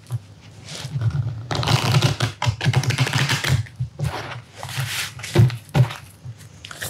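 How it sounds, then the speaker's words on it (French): Oracle cards from the Oracle du beau peuple deck are shuffled by hand in repeated crisp, slippery riffles and slides, close and fairly loud, with short pauses between bursts. "On va se mélanger les cartes et on va s'en tirer une"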